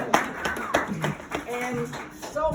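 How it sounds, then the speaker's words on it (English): Scattered claps from a small audience at a campaign event for a candidate, a few distinct hand claps in an irregular rhythm, close and moderately loud, with voices murmuring among them. "That was an applause line there."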